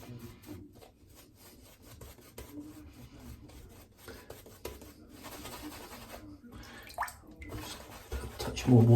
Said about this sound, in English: Just a touch more water in here.